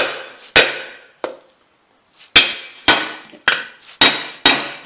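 Sharp hammer taps seating a seal into a Hummer H1 gear hub, one, a pause, then a run of five evenly spaced strikes, close and loud with short ringing decay.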